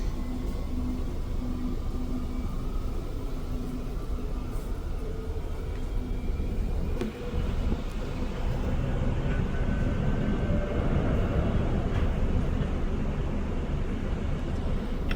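A REM light metro train in Montreal rides toward Côte-de-Liesse station on a Saturday night, with a steady rolling rumble and a faint whine from the car throughout, and no talking.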